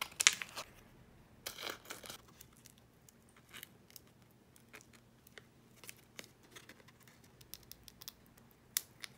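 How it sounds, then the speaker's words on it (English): Black contact paper crinkles and crackles as it is peeled and pressed onto a piece of cereal box cardstock, with scattered close rustles, taps and tearing sounds. "Random piece of cereal box cardstock and cover that in black contact paper."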